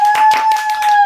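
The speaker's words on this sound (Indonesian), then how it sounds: "Tepuk tangan dulu." A short burst of hand claps, a few quick sharp claps from people after a fitness exercise set, close and fairly loud.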